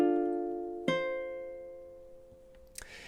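Ukulele plays measure 13 of a song, a soft strummed chord ringing out, then a second plucked chord that decays slowly, with a faint brush of noise at the end; close, quiet and without talk.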